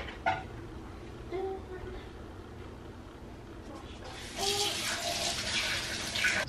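Filtered water runs from a tap into a small cooking pot for rosemary hair water, a steady splashing stream in two bursts, the second louder, with a person talking quietly in between.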